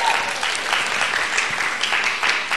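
An audience at a church service applauds the life education teachers, with steady, dense clapping throughout at moderate loudness.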